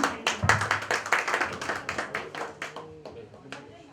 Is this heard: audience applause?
yes